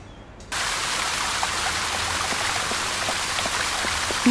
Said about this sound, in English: I think I will switch on the fountain.